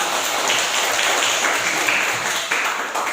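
Listeners at an Indonesian lesson respond with a short burst of applause, close and fairly loud hand clapping that wavers slightly and then thins out near the end.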